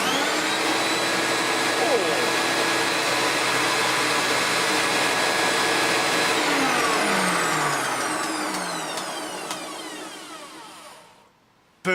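A refurbished Hoover Turbopower 3 U2876 upright vacuum cleaner with new brush roll bearings runs loud and close with a steady, whining motor roar, then winds down as it is switched off near the end.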